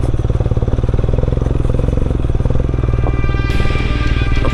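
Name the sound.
adventure motorcycle riding on gravel road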